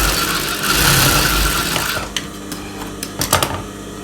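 A sewing machine stitching piping onto the lining of a blouse front runs as a steady whir for about two seconds, then falls quieter, broken by a few short mechanical clicks.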